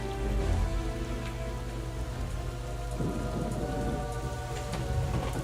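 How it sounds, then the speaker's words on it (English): Steady, loud rainstorm in Wind Waker HD, with a dense rain wash and rumbling thunder rolling underneath throughout, no voices. "Oh, the thunder, please."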